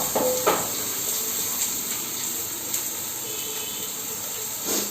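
Chillies sauté in a pan for a white chana curry, a steady close hiss and sizzle of hot oil running throughout with a few faint clinks, no talk.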